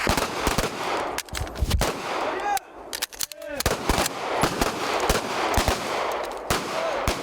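Rapid gunfire from a South Korean navy UDT/SEAL special forces shooting drill: dense bursts and overlapping shots with sharp cracks and echoes, loud and continuous, with a few voices faintly beneath.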